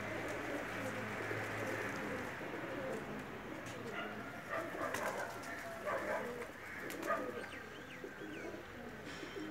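Teddy breed female pigeons coo softly and repeatedly over a steady, noisy background, with the birds sounding close and continuous.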